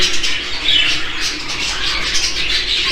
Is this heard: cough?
no